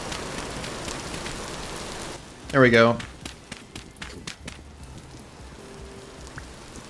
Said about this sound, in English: Hopefully you can hear me over this rain.